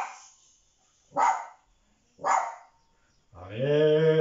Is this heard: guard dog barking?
yes